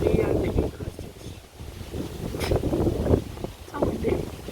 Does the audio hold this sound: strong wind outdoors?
yes